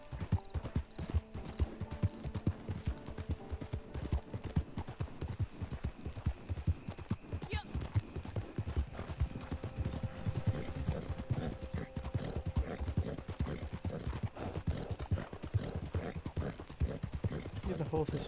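Horse hooves galloping in the Red Dead Online video game: a rapid, steady clip-clop rhythm throughout, with an occasional whinny and faint mechanical clatter, and a voice talking over it.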